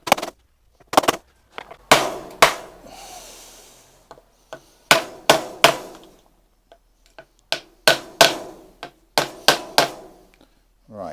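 A hammer tapping a new headstock bearing into an Aprilia motorcycle frame, the part protected from direct blows, as a run of sharp metallic strikes in small bursts and pairs with short pauses between them.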